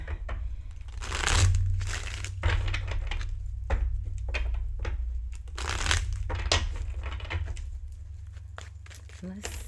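Tarot cards are shuffled in repeated crisp riffling bursts, close and clear, with quiet pauses between and a low hum beneath.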